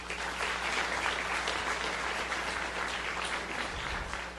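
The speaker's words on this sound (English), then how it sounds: "If you give her a big round of applause, please." An audience at an evening board work session claps steadily, a dense continuous round of applause heard throughout.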